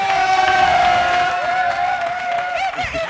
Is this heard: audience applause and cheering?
yes